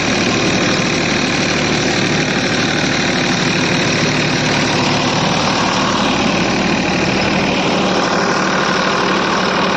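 A Massey Ferguson tractor's engine runs loud and steady at constant revs while mulching sugarcane leaves in a field, a dense, unbroken drone with no pauses or voices.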